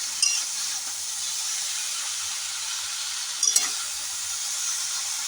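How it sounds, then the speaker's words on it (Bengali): Malabar spinach and other vegetables frying in a pan with a steady close sizzle and soft hiss, a brief clatter of stirring near the middle, no talk. "সবজিটা কিন্তু ভাজা হচ্ছে খুব সুন্দরভাবে"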